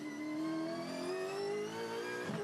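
A Supercars race car engine accelerates hard out of a corner in first gear, a loud, close, rising high-pitched roar that climbs steadily through the revs with no voices over it.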